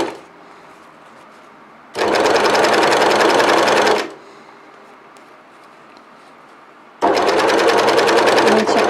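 An overlock serger sewing machine stitches fabric in two close, loud bursts of rapid mechanical whirring, each lasting about two seconds, separated by a quieter pause.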